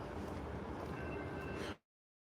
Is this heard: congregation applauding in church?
no